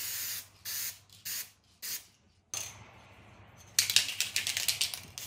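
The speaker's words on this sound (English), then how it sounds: "Then we'll move on to the polyacrylic spray." Polyacrylic sealant sprayed from an aerosol can onto MDF in several short hissing bursts, then a longer continuous spray with rattly, sputtering texture toward the end, close and fairly loud with no talking.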